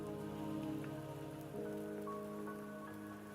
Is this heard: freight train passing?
no